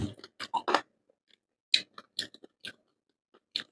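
Crisp, crunchy bites and chewing of a salad roll with shrimp dipped in seafood sauce, heard close up as a series of short, separate crunches between quiet pauses.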